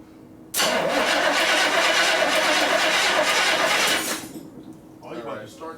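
A 1968 Chevrolet El Camino SS396 big-block V8 with a small fuel leak fires up with a sudden loud burst, runs hard for several seconds, then cuts off, followed by people talking nearby.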